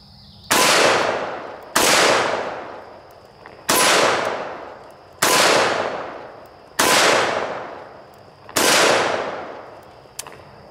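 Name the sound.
Taurus Raging Hunter revolver firing .357 Magnum at steel target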